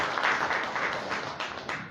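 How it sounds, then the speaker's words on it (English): At a formal reception for a visiting prime minister, an audience applauds with a dense, continuous wash of clapping that holds steady at a moderate level. "Let's give another round of applause to the"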